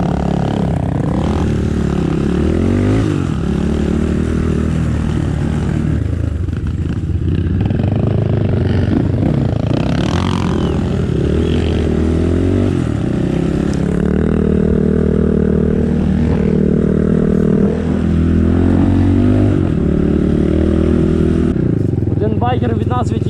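A 250–300cc dirt motorcycle labours up a steep hill, its engine revving hard and fluctuating loudly up close, with voices talking over the strained engine noise.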